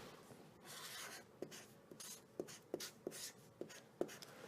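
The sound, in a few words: writing a math expression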